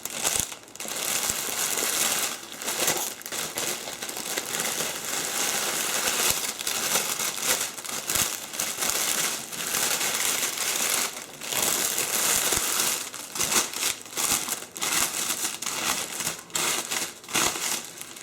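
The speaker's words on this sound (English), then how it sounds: "Pulling my cellophane up over the top there." Cellophane crinkles and crackles continuously as it is gathered up the sides and over the top of a candle gift basket, a close, busy rustle with sharper crunches throughout.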